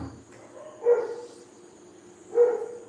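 Two single barks from a dog near a house, spaced well apart against a quiet background with faint insect-like hiss.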